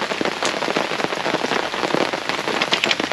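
Heavy rain pours steadily at an outdoor airgun shooting range, a dense close hiss of drops striking surfaces with no voices over it.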